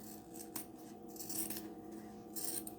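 Scissors snip apart sewn quilt fabric pieces for a flying geese block, a few crisp cuts with soft rubbing and handling noises close by, no talking.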